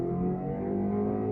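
2025 BMW X3 with the small engine accelerating at full throttle, a steady loud engine drone with a low even hum and no talk during the brief burst.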